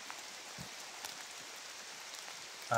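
Steady rain falls outdoors as a soft, even hiss with scattered drops, faint and unbroken, ending in a brief louder bump.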